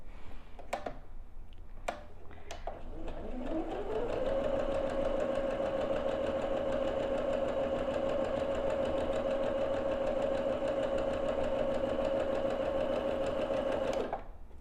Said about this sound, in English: it's not in the way of my sewing machine when I sew my 1/4 inch